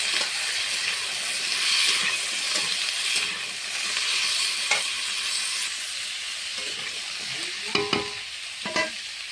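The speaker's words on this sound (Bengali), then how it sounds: "আলুর সঙ্গে পেঁয়াজটা ভাজা হয়ে যাবে ভালো করে" Onion and washed, cut potatoes fry in a pan with a loud, continuous close sizzle and hiss, stirred now and then with scraping knocks near the end.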